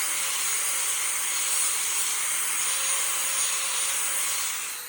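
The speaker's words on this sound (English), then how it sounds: "we're sharpening lawnmower blades" A lawnmower blade being sharpened gives off a steady, loud, hissing grind that runs without pause for the whole stretch and fades slightly at the end.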